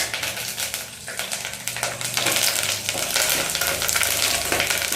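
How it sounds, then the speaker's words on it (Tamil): Curry leaves frying and spluttering in hot oil while making masala pori, a steady dense sizzle with crackling pops that grows louder partway through, close and continuous with no talk. "கருவேப்பிலை போடும்போது கொஞ்சம் பின்னாடி போட்டுருக்கீங்கன்னா ஏன்னா அது கொஞ்சம் பொரியும்."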